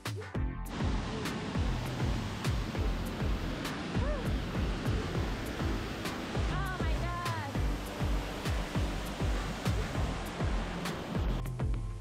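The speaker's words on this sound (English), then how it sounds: "here we are at the top of the waterfall, and it looks so amazing" Tamarind Falls in Mauritius pours in a steady, loud broadband roar of falling water heard from the top of the falls, with a few faint voices mixed underneath.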